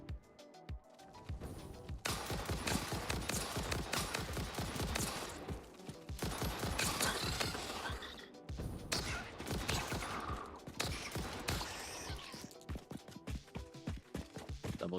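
Rapid bursts of gunfire in the Satisfactory video game, dense and loud, come in long volleys with brief pauses between them.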